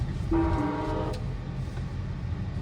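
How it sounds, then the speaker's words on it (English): A city tram sounds a brief, steady horn over a low rumbling of rolling wheels, fairly close, then the rumble carries on. "Now there is a tram coming,"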